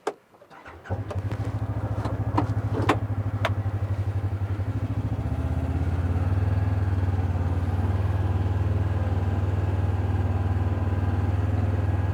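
An off-road side-by-side's engine, shifted to low, cranks and catches, then settles into a steady, loud low rumble that grows slightly fuller midway and keeps running close by.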